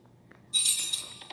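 Keys are picked up in the video game Bendy and the Ink Machine, giving a bright metallic jingle that rings out suddenly over a quiet background and fades slowly.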